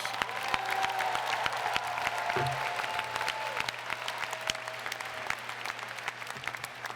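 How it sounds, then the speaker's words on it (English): Sustained applause from a large crowd at a university commencement, many hands clapping in a dense, even roar that continues steadily throughout. "you give them a big round of applause."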